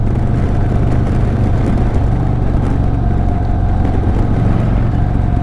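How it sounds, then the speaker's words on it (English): A 2024 Harley-Davidson Fat Boy 114 motorcycle engine while riding, a steady loud low rumble with wind roar, continuous and close throughout with no talk. "something about it just sounds like older Harleys"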